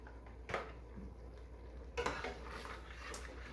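A spoon scrapes and clinks against the pot while hot chili powder gets stirred into chili, with a couple of sharper metallic knocks over a faint low hum.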